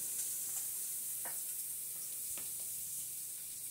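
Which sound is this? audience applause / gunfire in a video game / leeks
leeks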